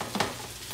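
Onion sizzling in a pan while a costilla en tomatada is cooked, a short, close hiss with a quick stirring scrape.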